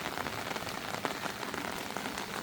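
Steady rain pours down outdoors along a street in a townhouse subdivision, a dense, even hiss with scattered drop patter throughout and no voices.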